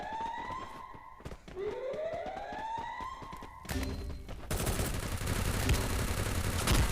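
Gunfire in the Garena Free Fire video game: repeated sharp shots and bursts over a siren-like rising tone, growing into a dense, loud volley of automatic fire in the second half.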